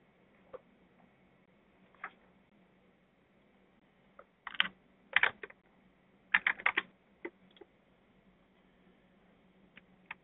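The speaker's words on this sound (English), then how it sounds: "here we'll type in the name of the provider" Typing on a computer keyboard while entering a provider name into an online search form, heard as sparse clicks that bunch into quick bursts of keystrokes, close and fairly quiet, with no talking.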